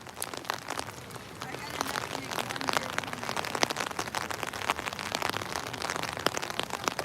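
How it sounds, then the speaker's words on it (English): Raindrops patter steadily and densely on surfaces outdoors during a charity walk, a close, continuous crackle of many small taps with people speaking over it. "Raindrops got me."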